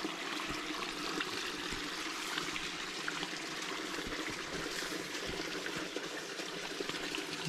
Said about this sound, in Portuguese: Tá correndo aqui porque é água da chuva, tá?